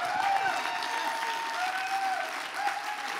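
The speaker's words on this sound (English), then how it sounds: "let's give the Lord a clap." A dinner audience at a Christian founders' event applauds in a steady wash of clapping, with a faint tone gliding above it throughout.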